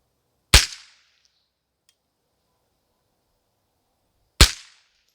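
Two sharp rifle shots from an AR-15 firing .22 rounds at a 100-yard range, spaced about four seconds apart, each a loud crack with a short decaying tail and silence between.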